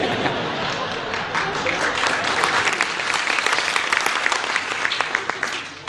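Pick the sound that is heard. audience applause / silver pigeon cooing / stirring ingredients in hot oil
audience applause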